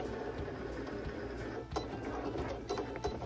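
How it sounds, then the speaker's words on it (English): A Cricut cutting machine works through a vinyl design with a steady mechanical whir and the soft ticks of the carriage moving, heard close up with no talking. "And now the Cricut is going at it and cutting my design for me."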